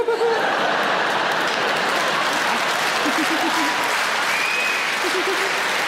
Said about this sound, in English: Not now, don't start clapping.